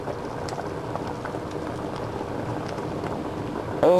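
Gravy thickener is poured into simmering beef carne guisada, a steady bubbling, hissing pot sound close by throughout, with a brief bright clink at the end.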